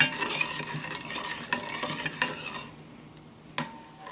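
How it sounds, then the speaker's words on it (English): Coconut milk being stirred in a pot for mango sticky rice, with a steady scraping and swishing of the spoon against the pot and a few sharp knocks, then a quieter pause and one clink. "Then keep stir until the coconut milk boiling."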